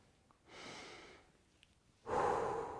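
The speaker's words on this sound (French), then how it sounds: "Et respirer avec le ventre." Deep belly breathing during a relaxation exercise: a soft, airy inhale followed by a louder, fuller exhale, close and alone with no talk.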